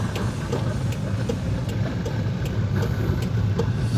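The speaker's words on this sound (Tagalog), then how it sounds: "Galit na yung makina." Engine of a manual car on a driving lesson, a steady mid-low engine hum held at elevated revs without clear surges, close and continuous inside the cabin.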